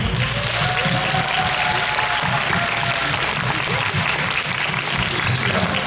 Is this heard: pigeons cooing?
no